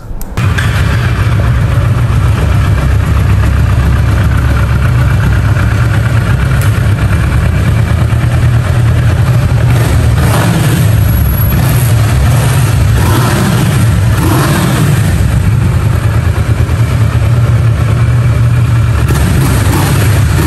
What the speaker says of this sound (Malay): Mari kita cuba start tengok Kawasaki versus 650 ini dia macam mana.